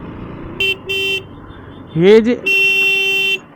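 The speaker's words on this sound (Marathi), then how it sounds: "अरे हॉर्न मारतोय दादा" A vehicle horn sounds on a busy road in three blasts: two short honks close together, then a longer one after a brief exclamation from a nearby voice, with traffic rumbling faintly underneath.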